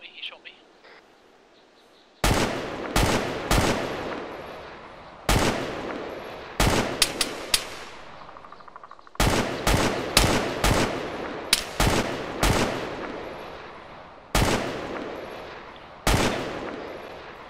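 Rapid bursts of gunfire in the military shooter game Arma 3 during a player-versus-player match, sharp loud shots in clustered volleys with brief gaps, while players talk over the action.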